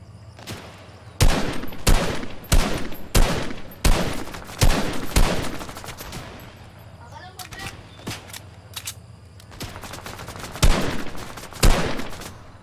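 Rapid bursts of Fortnite gunfire crack out in repeated volleys, some single shots and some quick clusters, loud and close over a steady low game hum, with voices talking between the shots.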